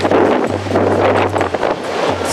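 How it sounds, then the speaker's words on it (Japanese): Strong gusty wind during a gale and high-wave advisory outside Botchan Stadium in Matsuyama, Ehime, Japan, roars and buffets the microphone up close, with a low steady hum beneath the rushing noise. "すごい今日風が強くて"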